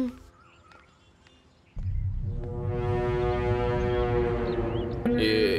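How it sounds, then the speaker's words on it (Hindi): A loud, sustained car horn blares steadily for several seconds, rich and buzzing, after a quiet stretch, with a brighter tone cutting in near the end. "घर के सामने आकर हॉर्न बजा रहा है।"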